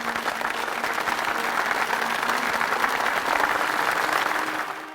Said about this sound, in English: a roaring sound of applause